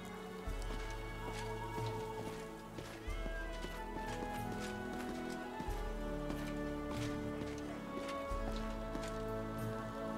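Horse hooves clop in a steady rhythm through the grassland of the Pathfinder: Kingmaker video game, a moderate, even patter with game sounds around it and no talking over it.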